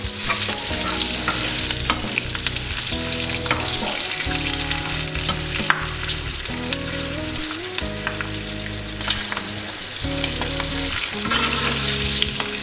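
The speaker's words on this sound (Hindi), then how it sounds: "फ्लेम थोड़ा सा तेज़ करूंगी क्योंकि हमने फ्राइड बनानी है।" Green chillies frying over a high flame in a pan for Hyderabadi masala hari mirch produce a loud, continuous close-up sizzle with stirring sounds throughout and no speech.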